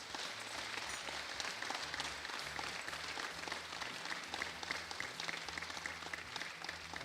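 Faint applause from a theatre audience, a steady patter of many hands clapping that lasts several seconds under a low rhythmic background hum.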